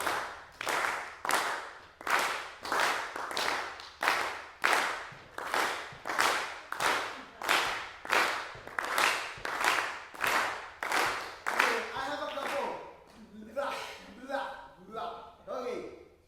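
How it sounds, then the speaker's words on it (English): A group of masterclass participants claps in unison to a bossa nova clave pattern, sharp synchronized hand claps repeating in a steady cycle, giving way to talking near the end. "It's a classical bossa nova clave. Can you clap with me?"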